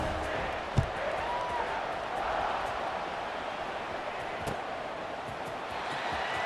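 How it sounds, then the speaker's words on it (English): A stadium crowd at a College Football 26 game keeps up a constant loud murmuring roar after a touchdown, with a single thud near the start. "this crowd is buzzing after that last score"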